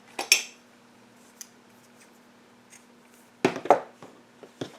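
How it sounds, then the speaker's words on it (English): Scissors snip through black yarn during amigurumi crochet work, giving a quick pair of crisp metallic cuts near the start and another cluster of sharp snips a few seconds later, close up with quiet pauses between. "you're going to cut the black colored yarn"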